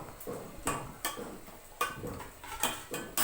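Vegetables with tomatoes and green chillies are stirred in a cooking pot, a ladle knocking and scraping against the metal in a steady series of strokes, fairly quiet and without voices.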